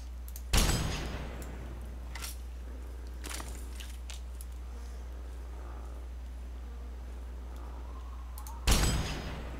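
Two sharp, loud gunshot blasts in the Fallout 3 video game, one near the start and one near the end, separated by a low steady hum and faint scattered clicks.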